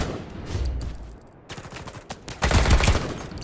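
Gunfire rattles in the VR shooter game Code 7 VR, rapid bursts of shots with short gaps, the loudest volley near the end, no voices over it.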